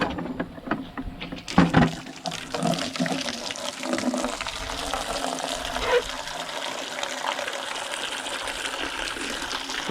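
Water pours and gushes steadily into a container set out for bottle calves, a continuous splashing flow that starts with a brief louder surge.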